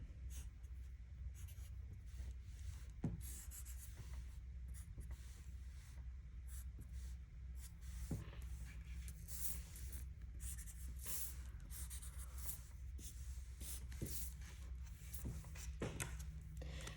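A Sharpie marker traces over a pencil drawing, making faint, steady scratchy strokes close by in a quiet room, with no talking.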